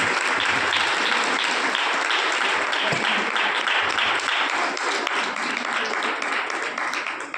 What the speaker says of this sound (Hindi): ताली बजाओ परमेश्वर को।